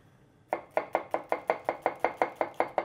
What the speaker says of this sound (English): Rather finely chopped.